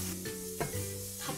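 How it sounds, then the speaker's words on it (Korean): Food stir-fried in a pan while making LA-style gimbap sizzles steadily, with a few sharp clanks and scrapes of a utensil against the pan and a low kitchen hum beneath. "다 볶았고요."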